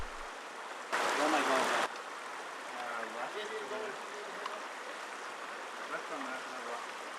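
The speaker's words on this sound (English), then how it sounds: "down near the Colorado, there's tons of little creeks and rivers to cross" A small creek flowing near the Colorado River in the Grand Canyon, a steady close wash of running water with a brief louder splash early on.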